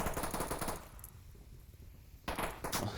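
Rapid automatic gunfire in the VR shooter Onward, dense bursts at the start and again near the end with a quieter gap between, loud and close.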